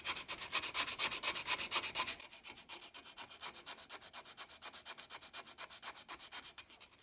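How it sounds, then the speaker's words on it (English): A wooden utensil is hand-sanded with curled 80-grit sandpaper in quick, even back-and-forth rasping strokes. The strokes are louder for the first two seconds, then continue more softly at the same steady rhythm, with no voices. "I just curl up some 80 grit to start with. Start sanding."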